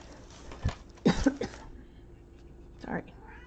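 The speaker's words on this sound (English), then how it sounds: "Didn't mean to cough in your ear." A person coughs a few times, short harsh bursts close to the microphone, followed by a softer throat-clearing sound.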